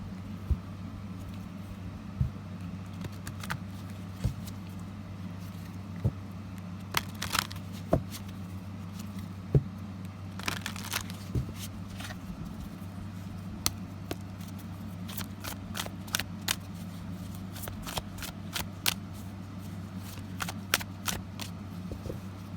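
Romance Angels oracle cards being shuffled and handled, giving a steady series of soft papery flicks and sharper snaps over a low constant hum, with no talking.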